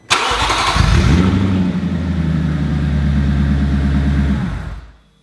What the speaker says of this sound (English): how loud it is when the car started up here from cold with just the downpipes on